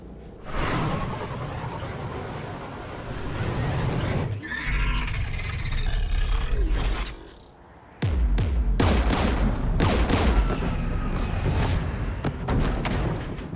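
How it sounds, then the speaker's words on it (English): Geth anti-aircraft guns firing near a jamming tower in Mass Effect 3, heavy booming bursts and whooshing blasts with rumbling explosions, loud and dense, briefly dropping away before resuming in rapid repeated volleys. "We're taking fire. Geth installed anti-aircraft guns beside the jamming tower."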